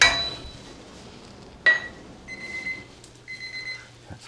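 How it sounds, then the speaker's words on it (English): A kitchen timer set for baking biscuits beeps in a few short electronic bursts, the first a sharp chirp followed by two sustained tones, fairly close in a quiet kitchen. "That's my beeper for the biscuits."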